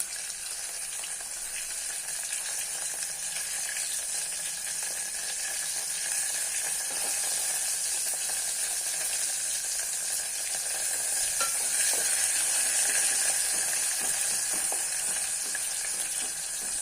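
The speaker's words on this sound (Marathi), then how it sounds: "लसूण कच्चा अजिबात ठेवायचा नाही, चांगला लालसर, थोडासा लालसर करून घ्यायचा।" Garlic sizzling in a pan until it turns reddish, a loud, dense, continuous frying hiss that swells slightly toward the end, with faint stirring underneath and no talk.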